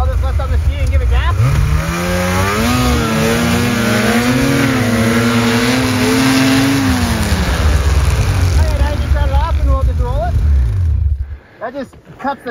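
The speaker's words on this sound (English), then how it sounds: "And I'll just lift on the ski and give it gas?" A snowmobile held up on one ski with its track spinning free while the engine is revved, loud and close; the pitch climbs, holds for about ten seconds, then drops away abruptly.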